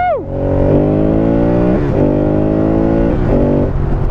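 An Aprilia 1200 Caponord V-twin motorcycle with 125 horsepower accelerates hard, its engine rising in pitch through repeated gear shifts, loud and close throughout.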